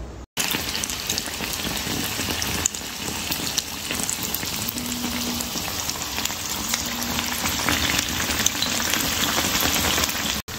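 Bread aloo patties deep-fry in hot oil, giving a dense, continuous crackling sizzle like heavy rain that holds steady and close throughout, with no voices.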